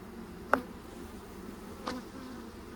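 Honeybees hum steadily during a springtime inspection of an open hive, a faint, continuous buzz close by, with two brief sharper sounds standing out.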